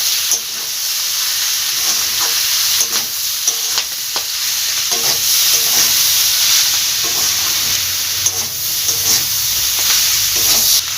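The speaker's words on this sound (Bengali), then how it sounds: "আদা কাঁচা লঙ্কা বাটা ঝালটা যে যেমন খাবেন সেই অনুযায়ী ঝাল দেবেন মশলাটা ভালোভাবে কষিয়ে নেবো" Ginger and green chili paste frying in a pan for a cauliflower-stalk recipe, a loud steady sizzle broken by repeated spatula stirs and scrapes, close up with no talk.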